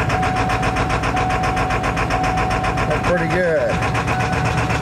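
A Ford engine idles steadily after a cold start, a loud, even mid-pitched rumble throughout, while someone talks briefly over it near the middle.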